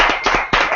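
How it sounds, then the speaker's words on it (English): A few loud, close hand claps ring out at a live anniversary reading event, as separate sharp slaps rather than a full roaring ovation. "a huge round of applause for Amy."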